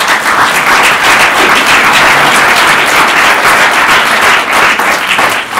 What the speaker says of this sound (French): je voudrais qu'on applaudisse une dernière fois nos 3 intervenants